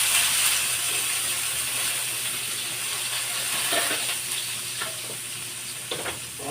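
Pork sautéing in a hot wok, a steady loud sizzle with intermittent clicking and scraping of a utensil against the pan, close and continuous, no talking.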